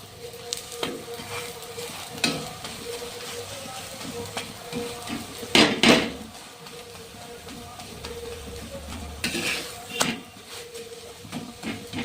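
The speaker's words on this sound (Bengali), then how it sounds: "তেল দেওয়া হয়ে যাওয়ার পর ভালো করে ভেজে নিতে হবে।" A cauliflower-stuffed paratha fries in oil in a pan, giving a continuous crackling sizzle broken by repeated scraping and clattering thumps as it is turned and pressed.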